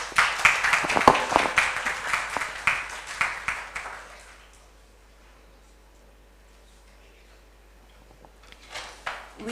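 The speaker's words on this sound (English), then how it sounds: "give a good applaud to you" A lecture audience gives modest applause, scattered clapping that fades out after about four seconds into near silence, before a brief second patter of claps returns at the end.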